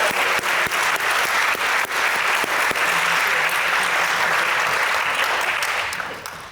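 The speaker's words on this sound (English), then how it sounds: "let's clap again because DJ and Julie this weekend are celebrating their 17th wedding anniversary." Audience at an award dinner breaks into sustained applause, a dense, even wash of many hands clapping for several seconds before tapering off at the end, with no voices over it.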